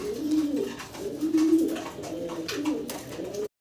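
A pair of imported racer pigeons in Andalusian colour coo in a steady run of low, throaty rolling calls, close and fairly loud, repeating about three times before an abrupt cutoff.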